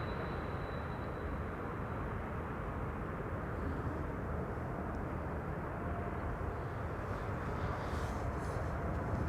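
A jet airliner with geared turbofan engines roars steadily in the distance at Amsterdam Schiphol Airport, a faint high whistle riding above the broad engine rumble throughout.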